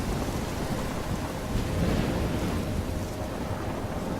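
Steady, dense roar of a thunderstorm in the video game Life Is Strange, with pounding rain and wind forming a loud, continuous wash and a swell of rumbling thunder partway through, no voices.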